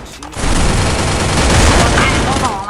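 Dense gunfire from the video game Free Fire, a loud sustained burst of rapid shots that starts abruptly and runs without pause to the end.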